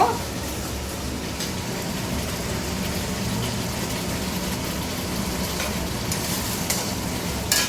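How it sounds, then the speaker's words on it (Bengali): Spice paste sizzles and fries in a pan for a crab dish, a loud, continuous broadband hiss with occasional brief crackles, with no voices over it. "এই যে মশলাটা ভাজছি একদম পুরো"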